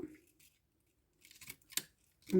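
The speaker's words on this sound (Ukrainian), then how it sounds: "Я ріжу ось так." A begonia leaf being cut with scissors for propagation, a few faint, close snips and crisp clicks of the blades after a quiet pause, followed by a person starting to speak.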